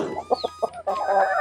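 Free-range backyard chickens cluck in short bursts as feed is tossed into a dish, a few quick clucks followed by a longer run of close, moderately loud calling.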